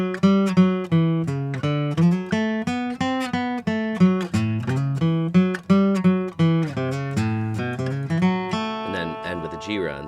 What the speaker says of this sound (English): piece of music you already have in your head is the Boogie Woogie, which sounds like this.